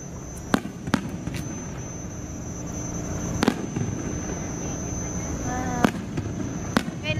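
Distant fireworks at Enchanted Kingdom theme park pop and boom in scattered sharp bursts over a steady outdoor crowd murmur, with a high-pitched whistle near the end.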